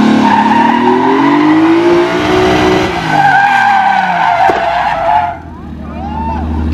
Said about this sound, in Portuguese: E o João vai fazer o teste agora de como estacionar um carro.